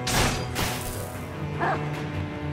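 Dogs in the video game Sekiro give short yelping barks and whines among game sound effects, a few brief bursts close by with no talking.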